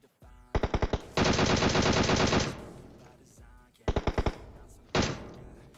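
Gunfire from the PUBG Mobile game: short bursts of rapid automatic shots, then a sustained volley of about a second and a half, and later two more brief bursts with a pause between.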